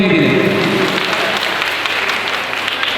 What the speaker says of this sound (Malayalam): നല്ല രീതിയിൽ കൈയടിച്ചേ, ശക്തമായ രീതിയിൽ.